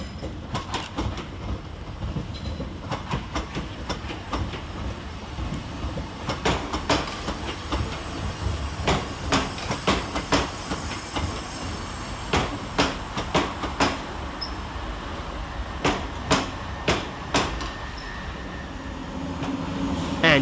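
A Southern Railway class 377 electric train rounds the curve and passes through Redhill station, its wheels clicking steadily over rail joints in a long regular rhythm, loud and close, with no talk.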